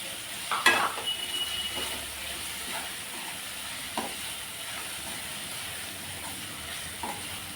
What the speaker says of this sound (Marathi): सोडे छान कांदा टोमॅटोमध्ये आपण भाजून घेऊ